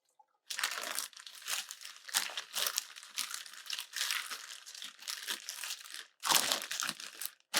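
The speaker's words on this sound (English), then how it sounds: "You put it in the Ziploc bag and push the air out of the bag." A Ziploc bag holding a seasoning rub for BBQ chicken crinkles and crackles in close, irregular bursts as air is pushed out, with a short pause before a louder final crumple.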